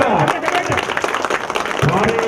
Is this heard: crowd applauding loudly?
yes